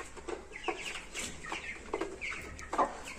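Young Brahma chickens kept as fancy backyard poultry cluck in a series of short, soft calls scattered across a few seconds, close by, with low farmyard background noise and no voices.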